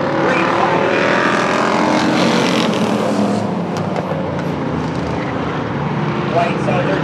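Slingshot stock cars at Star Speedway roar off at the green flag start of a heat race, a loud dense engine snarl that swells and then eases, with an announcer talking over it.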